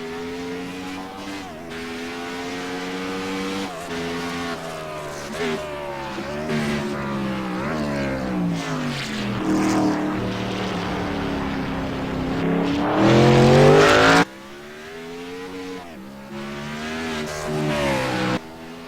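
Race car engine on a track during a broadcast race, a loud high-revving drone rising and falling through gear changes, with a sharp downshift and drop in pitch before climbing again.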